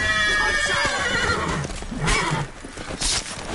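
A loud, shrill horse whinny rises and trails off as the horse dies in The Witcher 3: Blood and Wine, followed by snorting and hoof clatter amid a busy, noisy battle scene.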